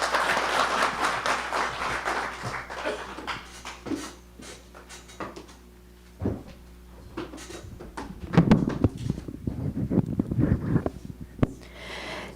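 Applause at the inauguration ceremony of an international media conference, a burst of clapping at first that fades, then scattered claps and movement with a later swell.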